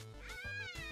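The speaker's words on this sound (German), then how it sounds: "das war eine Katze" A cat meows from a Minecraft soundpack in the video game, a single clear drawn-out meow with a rising then falling pitch, heard close and alone.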